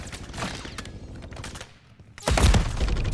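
Gunfire in a Call of Duty match, scattered shots over a busy background, then a quiet dip and a sudden loud, close burst of firing.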